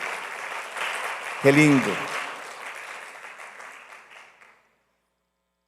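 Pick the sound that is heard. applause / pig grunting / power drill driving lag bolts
applause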